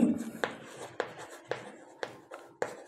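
Chalk or marker taps and scrapes on a board as a number is written, about six short strokes spaced roughly half a second apart, close and distinct, alongside a speaking voice.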